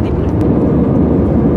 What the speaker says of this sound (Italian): L'aereo, incredibile.